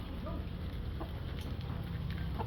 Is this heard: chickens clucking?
yes